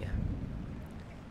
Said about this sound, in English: the rain seems to be going away now